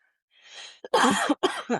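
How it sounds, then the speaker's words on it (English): A soft breathy cough followed by a few harsh, close coughs in quick succession. "I apologize for coughing."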